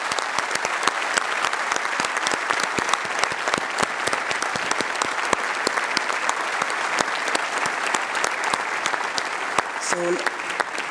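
Delegates at the 69th FIFA Congress in 2019 applauding the election of Gianni Infantino as FIFA president, dense sustained clapping from a large hall with a brief voice near the end.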